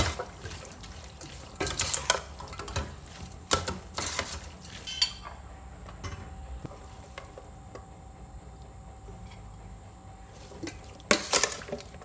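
Spoon stirring shallots, herbs and beef offal in a Thai salad gives soft scraping and clinking strokes, a few sharper taps scattered through a quiet kitchen.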